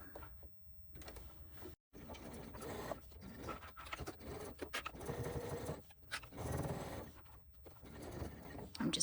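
A sewing machine back stitching through a crossbody bag, running in a steady mechanical whir with short pauses and changes in speed, close and continuous over the whole stretch.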